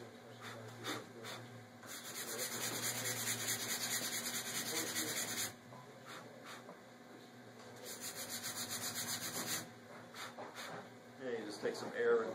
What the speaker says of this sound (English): You just come back to the 100 grit sandpaper, and then you just rub that